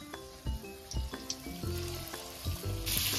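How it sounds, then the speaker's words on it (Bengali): Marinated chicken pieces frying in hot oil for chilli chicken, a steady close-up sizzle with bubbling crackle running throughout and occasional clinks and stirring sounds. "এবার ওইটাকে আমি তেলে ভেজে নেবো একটা একটা করে।"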